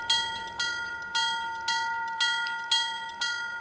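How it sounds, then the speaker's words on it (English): Locomotive bell on a GP7 diesel in a train simulator game, ringing steadily with about seven evenly spaced metallic clangs, each ring decaying into the next, loud and alone with no talk. "I should not be able to hear the bell that loud from over here."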